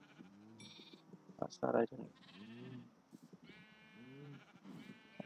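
Sheep bleat in a farming strategy game, several short wavering bleats scattered across the moment, clear and close, with a person speaking briefly among them.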